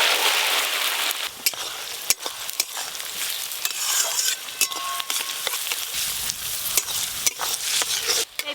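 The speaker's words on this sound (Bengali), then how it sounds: "এই পেঁয়াজগুলোকে কিন্তু একদম লাল লাল করে ভেজে নেব" Finely chopped onions fry in mustard oil for a mutton curry, giving a steady close sizzle with repeated sharp clicks and scrapes of stirring throughout.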